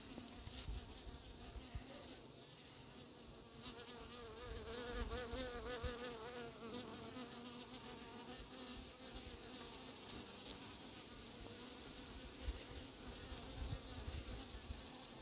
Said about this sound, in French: L'abeille tarde à se poser